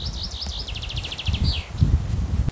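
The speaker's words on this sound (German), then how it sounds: "Noch ein Vogel." A small bird sings near a pond in the Harz, a quick run of bright, rising-and-falling chirps and trills, fairly close, over low rustling and a rumbling background.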